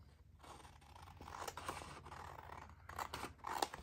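Scissors cutting paper pieces for journal cards and tags, with quiet close snips and crisp rustles as the blades close repeatedly, faint but clear.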